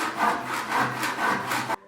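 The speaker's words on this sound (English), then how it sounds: "So sawing just the first piece" A hand saw cuts through a piece of wood in steady back-and-forth strokes, about four rasping passes close by, then stops abruptly.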